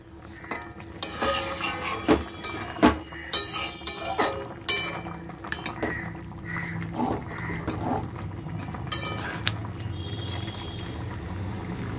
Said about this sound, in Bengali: ঝোলটা ভালো ফুটে এসছে